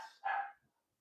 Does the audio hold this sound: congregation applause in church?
no